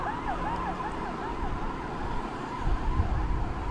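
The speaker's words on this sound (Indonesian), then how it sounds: "Ini ada ambulan, Mat, biar maju dulu." Ambulance siren from a PMI (Indonesian Red Cross) vehicle on a busy Surabaya street at night, wailing repeatedly over steady traffic and motorbike noise, moderately close.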